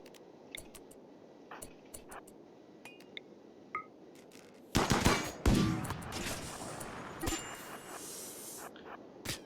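Turrets firing in the video game RimWorld, about eight of them: a quiet stretch with scattered small ticks, then a loud, dense burst of rapid overlapping gunfire that continues more sparsely to the end.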